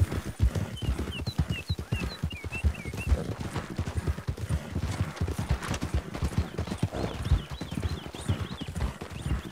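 Horse hooves clip-clop steadily and close in Red Dead Redemption 2, a dense run of rapid hoofbeats lasting throughout, with birdsong chirping faintly above and a brief whinny-like sound.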